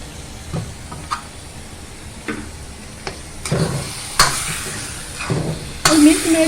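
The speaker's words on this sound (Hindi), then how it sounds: "और मिल्क मेड डालने के बाद इसे हम यूं चलाते हुए अच्छी तरह से इसको भी भूज लेंगे।" Carrot halwa is stirred and roasted in a pan after condensed milk is added, giving soft scraping stir strokes over a faint sizzle, with a few louder clanks of the spoon toward the end, close up and without talk.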